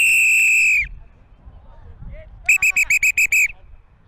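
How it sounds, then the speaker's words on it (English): Referee's whistle at a rugby match at the 2022 Carolina Ruggerfest, Tigers vs Hudson: one long shrill blast, then a burst of six short rapid blasts a moment later, loud and close over faint crowd noise. "Keep whistle going."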